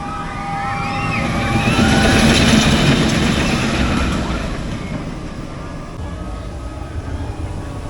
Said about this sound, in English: that is a beast of a train